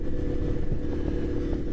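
A motorbike rides along with a steady, close engine rumble and a faint clatter, speeding up slightly.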